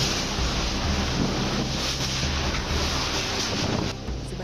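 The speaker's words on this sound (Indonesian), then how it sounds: "Hempasan angin puting beliung ini menerjang cukup lama." Tornado winds batter shop buildings with light steel roofs, a loud, unbroken roar and rush of gusting air pressing hard on the microphone. The wind eases only slightly near the end.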